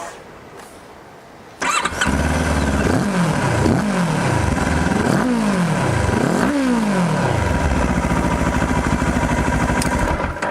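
A QJ Motor SRT 700 X motorcycle engine fires up after a quiet moment, then is revved four times in quick swelling blips before settling into a steady, loud idle close to the listener.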